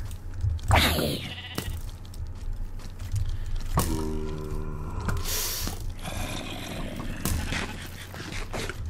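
Sheep bleating inside a video game, a few short bleats rising over a steady hum of game sounds and effects, fairly close and moderately loud, with no talk.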